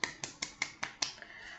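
A short burst of classroom clapping for a student, about six sharp evenly spaced claps, faint and close, with no talking.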